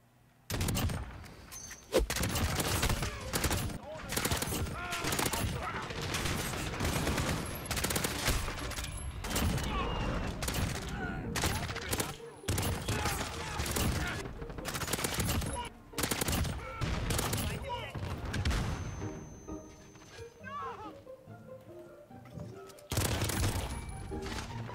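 Gunfire from the M13 rifle in Call of Duty Modern Warfare, with fast automatic bursts and rapid shots in dense, loud volleys separated by short pauses over most of the stretch.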